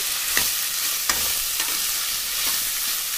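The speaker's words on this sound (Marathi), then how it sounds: "इथे ती चांगल्या तेलामध्ये मस्तपैकी फ्राय होऊ द्यायची आहे।" Chopped capsicum frying in hot oil, a dense, steady sizzle heard close up with a few light stirring scrapes and no talk.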